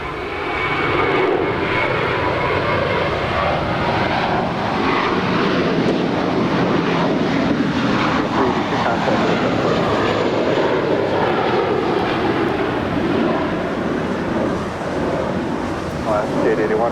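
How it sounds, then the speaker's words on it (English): An American Airlines Airbus A321 jet rolls down runway 25R at LAX on its takeoff run, its engines giving a steady, loud, broadband roar that holds throughout, with a faint voice underneath. "It's American Flight 382 heading to Boston. It's an A321 rolling down 25 right."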